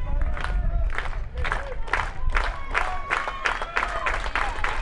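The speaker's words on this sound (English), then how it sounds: "The Humboldt crowd comes to life" The home crowd at a Kansas high school 3A baseball quarterfinal (Humboldt vs Wichita-Independent) cheers and yells in repeated surges, with a commentator talking over the noise.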